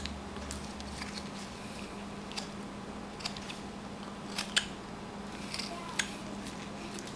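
A carving tool cutting into a carved wooden pelican, giving scattered sharp clicks and scraping snips at irregular intervals over a low steady room hum, close by and with no talking.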